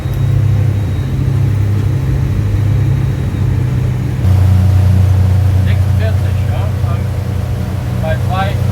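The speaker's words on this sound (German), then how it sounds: "Wir könnten noch mehr Gas geben, aber wir wollen die Motoren ja nicht überdrehen." Motorboat engines droning steadily on a waterway near Nijkerk in the Netherlands, a loud low hum that steps up in pitch midway, with someone speaking over it.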